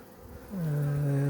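Honeybees on a varroa-infested comb give a low, steady drone that swells in partway through and holds close and even to the end.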